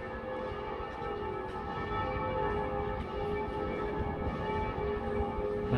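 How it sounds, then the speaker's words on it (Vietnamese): Church bells ring outside the parish church of Đông Quang, steady tolling tones sustained over a low background hum, moderately distant and continuous with no talk. "chuông nhà thờ lên luôn rồi"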